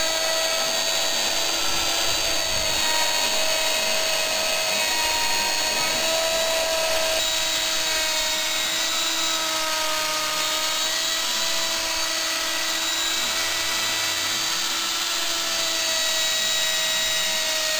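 A CNC router with freshly upgraded bearings cuts 3mm deep at 200 inches per minute, giving a steady, loud machining whine with sustained high tones over a constant motor drone, running alone without pause.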